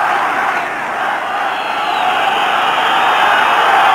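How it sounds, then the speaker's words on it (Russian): Some 20,000 football fans fill a Moscow stadium during a Russian league match between Lokomotiv and Spartak, chanting for Spartak: a dense, steady crowd roar at high level that does not let up. "сейчас, наверное, все 20 тысяч скандируют. Спартак, Спартак."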